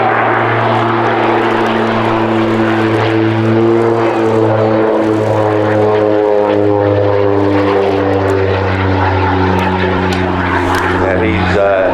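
An OV-10 Bronco twin-turboprop aircraft flies a display pass at the Midlands Air Festival 2023, a loud continuous propeller drone with shifting pitch as it passes, with an announcer speaking over it.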